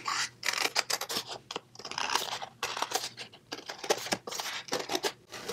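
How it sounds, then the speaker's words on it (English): Scissors snip through a paper napkin as a shape is cut out for a butterfly embellishment, producing quiet, irregular crisp cuts and rustling paper close up. "I'll just go ahead and cut this out for now"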